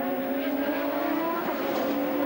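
A 1996 Indycar brakes hard coming downhill at Mid-Ohio and locks its wheels, heard as a loud, steady engine note with a faint tire squeal, with no talk over it.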